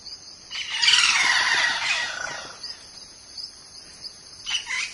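A single bird in the Amazon, able to mimic a chorus, gives a loud, squealing burst of calls lasting about a second, then quieter chirps and a final short call, against a faint insect-like hum.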